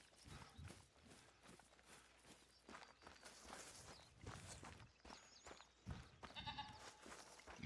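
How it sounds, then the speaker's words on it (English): Goat in the hunting game theHunter: Call of the Wild bleats faintly a few times in an outdoor Iberian setting, mixed with footsteps and rustling movement, with no talk. "I heard a goat."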